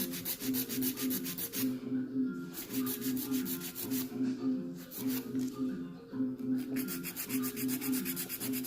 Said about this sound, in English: we are filing this